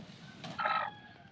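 A single short chicken call rises over quiet background noise, brief and somewhat distant.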